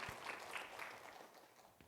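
A church congregation applauds faintly in a steady patter of clapping that slowly thins out.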